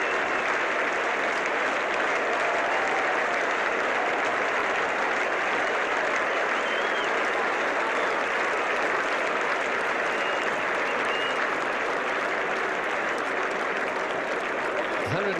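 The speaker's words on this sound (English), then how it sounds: "The Australians applauding, and the ground is rising to Kallicharran." Sustained, loud applause from a cricket crowd and Australian players at a 1975 World Cup match between West Indies and Australia, steady and dense from start to finish with no break.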